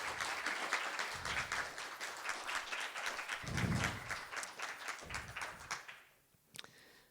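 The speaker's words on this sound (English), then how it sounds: "Can we have another round of applause for our local artists," An audience at a library event for local poets and singers gives a round of applause, a fairly faint, steady patter of many hands clapping for about six seconds that fades out, followed by a short thud.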